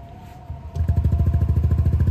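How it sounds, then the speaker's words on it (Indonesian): A Yamaha NMAX Neo 2024 scooter idles through an aftermarket Knob One exhaust fitted without a dB killer. After a brief quieter start, it settles into a close, steady, rapid low-pitched thumping pulse, with no talk. "sekarang boleh nggak nih dicek sound suara motornya gimana dari knalpot knob one ini?"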